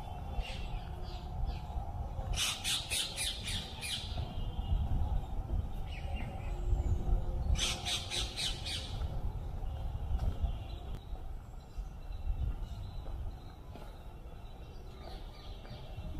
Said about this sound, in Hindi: तोता बोल रहे हैं